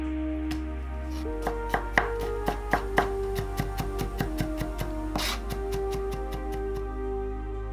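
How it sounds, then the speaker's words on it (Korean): A knife minces four whole garlic cloves on a board with a run of sharp, close, evenly spaced chops, roughly two per second, over a low steady background hum. "통마늘 4개는 다져주고"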